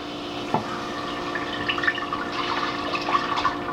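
Two cups of milk pour into a pot for a lobster egg noodle and cheese sauce, a soft continuous liquid stream with faint splashes and drips, close and steady, with no talk.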